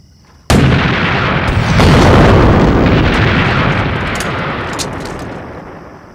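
An artillery cannon fires in a battlefield scene, one sudden loud boom followed by a long, heavy rumbling roar that slowly fades over several seconds.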